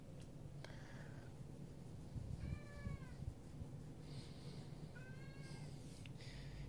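A house cat cries with two clear, plaintive meows a few seconds apart, each wavering and moderately close, over a steady low hum in a quiet room.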